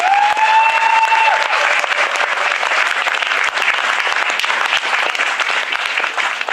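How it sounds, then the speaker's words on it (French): Audience at a strike-fund debate and show applauds in loud, dense, sustained clapping throughout, with a brief whistle near the start. "Et donc il faudrait au moins les applaudir."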